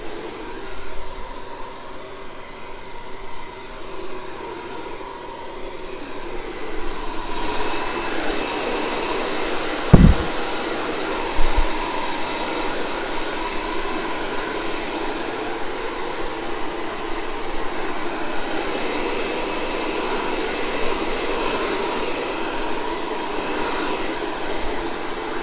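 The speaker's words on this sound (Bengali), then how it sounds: "এবার চলো ড্রায়ার দিই চুলে" A hair dryer blows steadily on hair for the whole stretch, a continuous close airy roar with a couple of brief knocks partway through.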